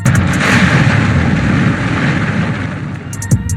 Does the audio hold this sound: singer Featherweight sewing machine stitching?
no